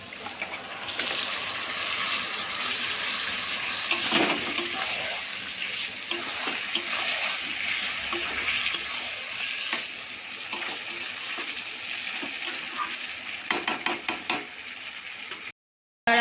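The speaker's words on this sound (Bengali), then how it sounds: "এবার আমি দিয়ে দিচ্ছি ম্যারিনেট করে রাখা মাংসটা" Marinated chicken hits a hot pan of fried spices and sizzles loudly and steadily, with scraping stirs and clanks of a spoon against the pan throughout, close up.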